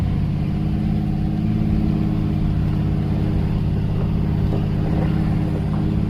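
A log truck's engine labors in winter as it drives off, a low, steady rumble heard close throughout.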